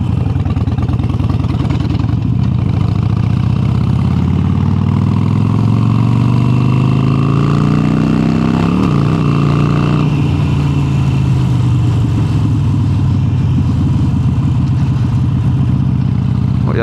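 A Harley-Davidson Sportster 883 with an upgraded exhaust rumbles loud and close in a steady deep throb, rising through revs, dropping back briefly near the middle, then climbing again.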